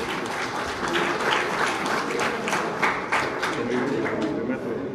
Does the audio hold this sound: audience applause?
yes